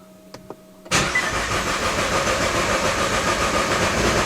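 A Nissan GTR tuned past 1500 hp starts up: after a few faint clicks the engine catches with a sudden loud burst, then settles into a steady, heavy, rumbling idle, close by and with no talk.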